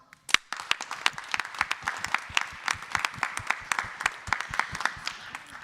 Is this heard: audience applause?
yes